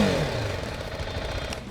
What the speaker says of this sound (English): This motorcycle's exhaust doesn't sound that great, and it is similar to the Apache yet again.